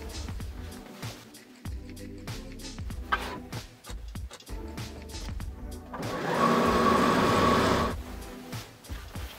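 A sewing machine stitches the back pieces of a quilted skirt's viscose challis lining to the front, running in short bursts with handling clicks and a louder sustained run toward the end.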